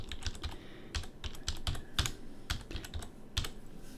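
Close, quiet typing on a computer keyboard: a quick irregular run of light key clicks and taps, alone with no voices.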